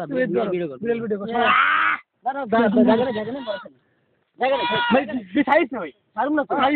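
A goat bleats close by in several long, wavering calls with short pauses between them, against an outdoor tourist setting at Kuakata. Voices may be mixed in with the bleats.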